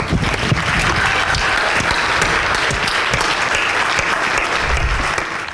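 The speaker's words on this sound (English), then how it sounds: "let's give a great round of applause to the architect of the Richmond Roosters, John King." Audience at an annual community meeting giving a loud, sustained round of applause, dense clapping with a few sharper nearby claps, tapering off at the end.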